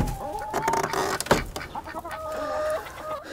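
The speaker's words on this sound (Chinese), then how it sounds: "这有一只老母鸡一直在趴窝，出去吧，出去吃点东西去。" Chickens cluck in a backyard coop where an old broody hen has been sitting on her eggs, with repeated nearby clucks and a sharp squawk midway over steady farmyard background.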